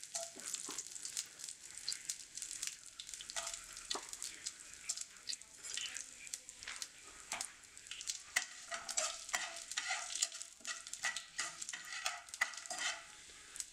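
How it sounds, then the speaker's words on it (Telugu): Curry leaves and two dried red chillies frying in a sizzling tempering of mustard seeds, cumin and urad dal, a steady close hiss and crackle of oil with spoon scraping and stirring against the pan throughout. "మనకి పోపు సామాన్లు కొంచెం వేగగానే నేను ఇందులో కరివేపాకు అనేది వేసేసుకుంటున్నాను."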